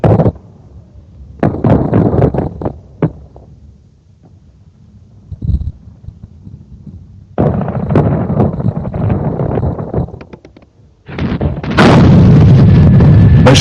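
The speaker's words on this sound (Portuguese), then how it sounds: "A câmara estava a filmar quando o objetivo foi atingido por granadas de TNT." Artillery shells loaded with TNT strike a target in old archive war footage, heard as heavy booming blasts and rough rushing bursts separated by quieter gaps, ending in a loud sustained roar.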